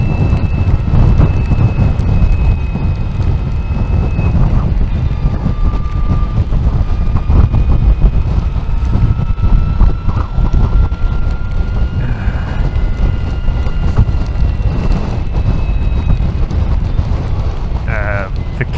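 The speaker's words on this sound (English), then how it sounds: "it was extraordinarily windy on this part of the run" Strong wind roars and buffets continuously and loudly around an Energica electric motorcycle ridden along Scotland's eastern coast, with no voices.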